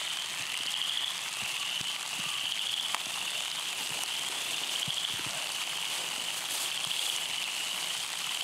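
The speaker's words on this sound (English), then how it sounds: "it's raining again" Steady rain falls on public woodland during a wet spring turkey hunt in Mississippi, a dense continuous patter with scattered close drips and a faint high insect-like whine behind it.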